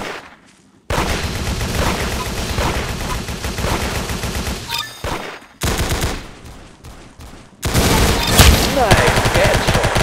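Dense bursts of rapid gunfire in a video game, loud and continuous with brief gaps and abrupt cuts between volleys, with voices now and then.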